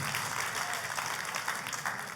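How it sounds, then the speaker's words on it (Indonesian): Congregation applauding during a church service, a steady wash of many hands clapping at once, sustained and moderately loud throughout. "Tepuk tangannya mulai yang paling meriah buat Tuhan."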